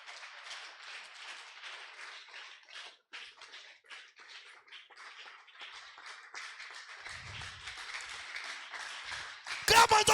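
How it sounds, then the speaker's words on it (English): Church congregation at a Wednesday tabernacle service claps along, a dense patter of many hands rising steadily in volume over about ten seconds, faint and a bit distant, ending in a louder burst. "If you want more of him, I want you to stand up and clap unto the Lord"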